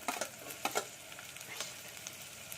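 Curry leaves and chillies sizzle in hot oil for mango chitranna, a steady soft crackle with a few sharper pops and stirring scrapes, fairly quiet and with no talking.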